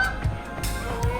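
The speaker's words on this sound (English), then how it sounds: "there go a couple of Canada geese" A couple of Canada geese give two short, loud honks about a second apart, heard outdoors with a soft background hiss and no talking.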